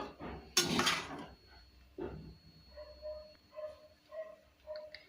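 Spoon clinks and scrapes against a pot while coconut rice is mixed, a loud clatter at first, then a steady run of light, rhythmic taps close by.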